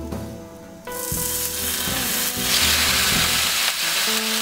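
Bacon hits a hot cast iron skillet after a brief moment of clatter, then a loud, hissing sizzle swells and holds steady, crackling close up.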